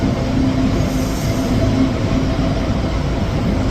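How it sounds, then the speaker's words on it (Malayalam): A train rolling into a railway station in Germany, a loud, steady rumble of wheels on rails with a faint squeal running through it, heard close by from the platform. "അപ്പോഴാണ് നമ്മുടെ ട്രെയിൻ വരാൻ പോകുന്നത്."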